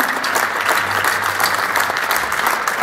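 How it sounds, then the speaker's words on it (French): Loud, dense applause from a large festival audience for the National Orchestra of Algeria conducted by Rachid Saouli, steady clapping filling the hall throughout. "On applaudit très fort l'Orchestre National d'Algérie sous la direction du maestro Rachid Saouli"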